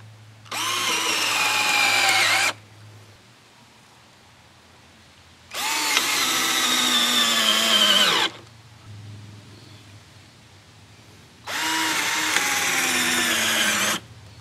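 Three separate bursts of cheap cordless drills whirring under load with a 5/16-inch bit, each lasting about two seconds with pauses between, close and loud.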